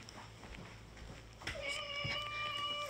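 A cat meows indoors, a few clear tonal calls close by in the second half over steady room noise, with a brief voice nearby.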